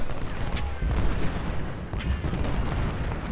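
Continuous battlefield gunfire in the Civil War video game Ultimate General, dense volleys and booms rumbling together in a loud, unbroken wash with no talk.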